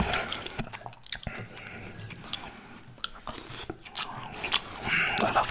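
Leberkäse, minced meat and rice eaten up close with a plastic spoon, giving soft wet chewing and squishy bites with sharp clicks and scrapes of the spoon, steady and intimate, with no talking.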